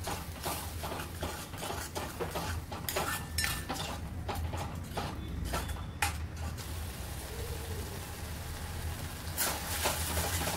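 Yogurt and spices are stirred in a pan with a utensil, producing repeated metallic scrapes and taps over a steady background sizzle or hum, clustered early and tapering later.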